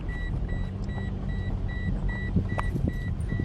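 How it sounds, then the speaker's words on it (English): A vehicle's repeated electronic beeping, evenly spaced tones sounding over a rumbling engine and road noise, fairly faint and steady with no talking. "Sorry for the beeping."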